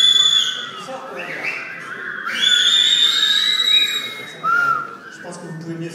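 A conference audience in a lecture hall whistling together, many overlapping shrill tones rising and falling over a crowd murmur, with a brief louder burst near the end.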